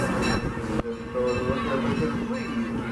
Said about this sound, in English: As we approach Main Street Station, please remain fully seated as the train comes to a full and complete stop.